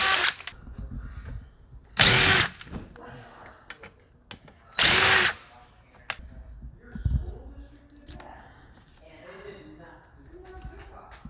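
A power drill backs out the body screws on a Burromax mini bike, two loud whirring bursts of about a second each a few seconds apart, with quieter handling clicks between them.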